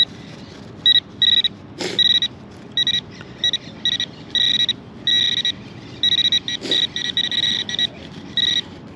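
A metal detector sweeping over a tot lot gives repeated short electronic beeps in uneven bursts, with a couple of brief clicks and soft background noise.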